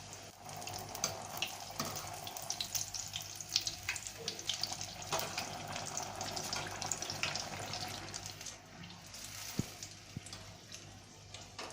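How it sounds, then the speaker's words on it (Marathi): Chillies for Rajasthani mirchi pakoda frying in hot oil, giving a continuous low crackling sizzle with occasional bubbling bursts, fairly quiet and steady throughout. "आता बघा ह्या आपल्या तळून झालेल्या आहेत अशा रंगावर आपल्याला तळून घ्यायच्या आहेत"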